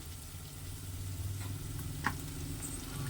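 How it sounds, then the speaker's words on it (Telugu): Masala paste frying in a pan for a small-fish curry, a steady low sizzle running throughout with a brief sharper crackle near the middle. "ఇలా పచ్చివాసన పోయేదాకా బ్రౌన్ కలర్ వచ్చేదాకా వేయించుకోవాలి"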